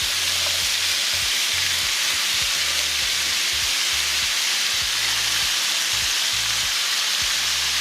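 Onions and beef sizzle steadily in a hot pan for a poblano stew, a loud continuous frying hiss with low thumping pulses beneath, no voices.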